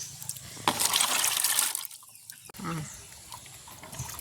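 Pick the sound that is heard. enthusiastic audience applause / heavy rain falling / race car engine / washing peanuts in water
washing peanuts in water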